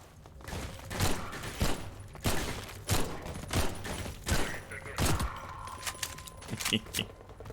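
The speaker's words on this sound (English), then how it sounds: "Ooh, turret." Automated turrets in Half-Life 2 fire rapid bursts of metallic gunshots, with clattering and jangling mechanical rattles between them, fairly close, while someone speaks briefly at points.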